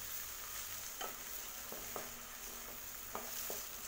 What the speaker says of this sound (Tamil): பச்சை மிளகாய் எண்ணெயில் வதக்கினதுமே இதோட 1 மீடியம் சைஸ் நாட்டு தக்காளி ஆட் பண்ணிக்கிறேன்.